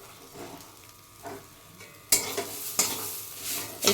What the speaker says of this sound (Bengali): এখানে থোর ভাজা বসিয়েছি প্রায় হয়ে গেছে